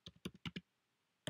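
Brief burst of keystrokes on a computer keyboard while a web page post is typed: five quick clicks in an uneven run, a pause, then one more key, close and fairly quiet with no talk.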